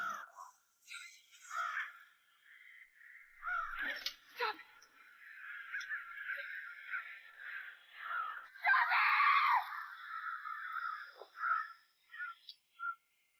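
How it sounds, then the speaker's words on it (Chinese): Harsh crow caws repeat through a horror film scene, some shrill and drawn out, with a few sharp knocks or thumps as the crow batters a window, and a dramatic, eerie tone. "米歇尔循声过来查看，却被疯狂撞击玻璃的黑乌鸦吓得花枝乱颤。"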